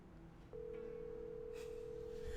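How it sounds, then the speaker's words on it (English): Inside the Winning Hearts wrestling otome game, a phone call rings out as a steady, sustained electronic tone that starts abruptly and holds quietly, with no voices. "I pull my phone out of my pocket at lightning speed and immediately call Jenna"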